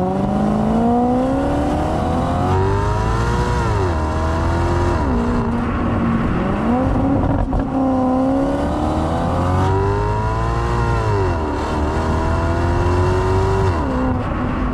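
A Ferrari-derived 4.2-litre V8 in an Italian saloon car revs loudly and repeatedly, the pitch sweeping up and dropping in several close, sustained pulls with a rich, constant engine drone.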